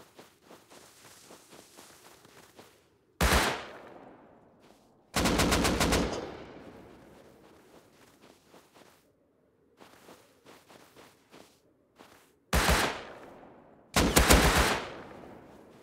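AK rifle fire in the survival game Rust comes in several loud, sharp bursts of rapid automatic shots, each with a ringing tail, separated by quieter stretches of footsteps and movement.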